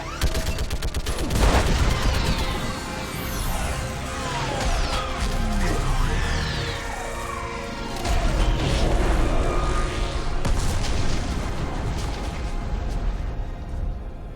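Mass Effect 3 combat against a live Reaper, with an orbital strike and heavy gunfire: a dense barrage of crashing impacts, rapid weapon fire and sweeping whooshes, loud and continuous across the whole stretch.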